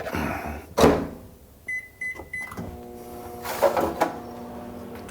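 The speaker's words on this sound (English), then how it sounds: "I'm actually going to give this just a quick zap in the microwave" Clunks of a door shutting, then a few short beeps, followed by the steady hum of a microwave oven running nearby.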